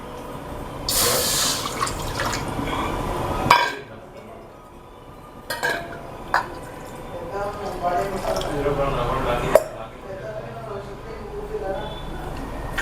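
Water is poured from a cup into a bowl while making ragi mudde, a splashing, filling stream at the start followed by clinks of the cup against the bowl, with someone talking throughout.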